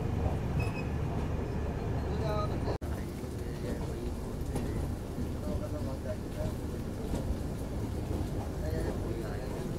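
Karnataka Sampark Kranti Express running on the line, a steady, loud rumble of rolling wheels and carriages with a brief dropout partway through, heard from aboard with people talking.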